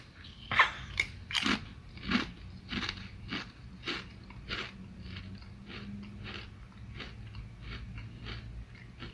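A potato chip bitten and crunched up close, with a few sharp crisp bites early on followed by steady softer chewing crunches, fairly loud and without talk.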